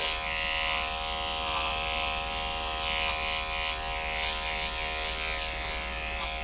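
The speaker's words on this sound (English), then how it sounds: "I like to do as much clipper work as I can." Electric clippers trimming a poodle's coat, a continuous close buzzing hum that holds steady throughout with only slight shifts as the blades move through the hair.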